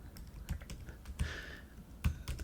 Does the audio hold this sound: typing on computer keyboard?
yes